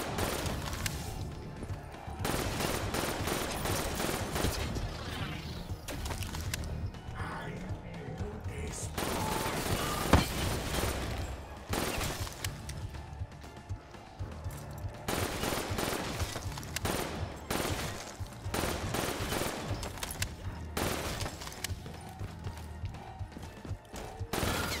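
Rapid automatic weapons fire in Call of Duty Black Ops 3 Zombies on the Gorod Krovi map, long loud bursts of gunfire broken by short pauses, with occasional crashing impacts throughout.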